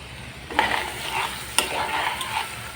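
Boiled eggs stirred through a spiced masala in a hot pan for egg bhuna, with a steady sizzle of frying and a few sharp scraping stirs standing out, close and without talk.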